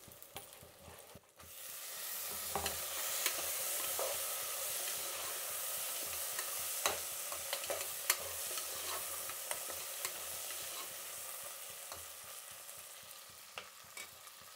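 Tomatoes go into a frying dal tempering and are stirred, giving a continuous close sizzle and hiss with intermittent clicks and scrapes of the spoon against the pan, after a brief quieter start.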